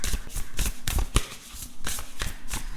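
Tarot cards are shuffled close up in a run of quick, crisp riffling and slapping bursts, with cards then pulled from the deck, and no speech over it.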